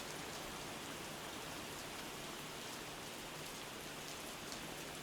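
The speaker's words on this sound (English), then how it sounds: "Maybe watch the rain for a little bit." Steady, dense rain patters on a roof, heard from a porch as an unbroken hiss of drops with no pauses.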